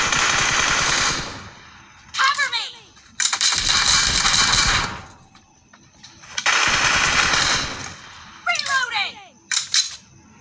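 Gunfire in a shooting video game: long sustained bursts of rapid automatic fire alternate with short pauses and brief clicks and metallic casing clinks, loud and close.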